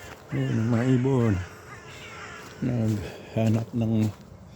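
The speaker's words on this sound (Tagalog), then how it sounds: "Yun, yung mga ibon." Crows give harsh, drawn-out caws in a woodland during a walk: one long call, then a short series of three, clear and fairly close.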